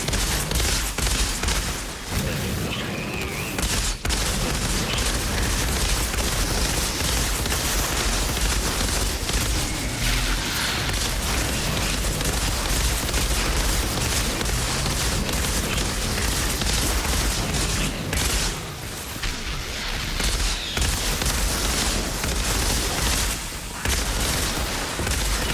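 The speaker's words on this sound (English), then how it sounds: "I do a lot of hip firing, if you haven't noticed." Hip-fired weapons in the video game Outriders, dense and nearly continuous rapid gunfire mixed with heavy booms and explosions, loud and sustained for the whole stretch with only brief lulls and no talking.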